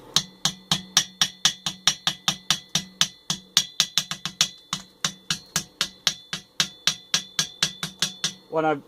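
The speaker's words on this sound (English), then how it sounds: "What this hammering is, by the way, is banging off the slag." Rapid, steady metallic hammering as a hammer chips slag off a weld, dozens of sharp close strikes in a fast even rhythm, ending with a brief rattling flurry.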